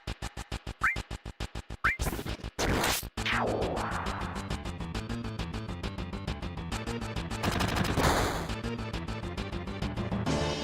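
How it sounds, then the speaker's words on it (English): Rapid machine gun fire in the 1997 video game Final Fantasy VII, a long run of evenly spaced loud bursts with brief sweeping effects and battle music running underneath. "How dare you use a machine gun on me?"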